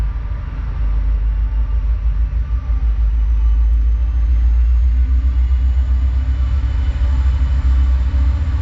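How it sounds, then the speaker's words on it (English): A train passes close by with a loud, heavy, continuous low rumble and rolling wheel noise that holds steady from start to finish, with no voices. "there's our train."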